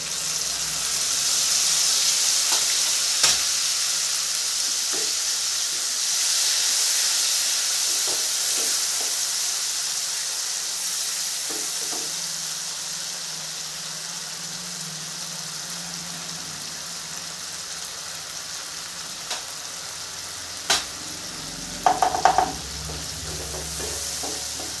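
Ginger paste and ground tomatoes fry in oil with a soft, continuous hiss, and a few scattered clinks of a utensil stirring now and then.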